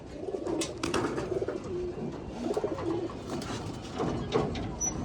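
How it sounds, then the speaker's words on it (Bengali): Pigeons kept for racing and tournament flying coo in a loft, with repeated soft, throaty calls at an irregular rhythm that overlap one another against a busy background. "মাদি কবুতরগুলো বাইর করেন, একটু দেখাই"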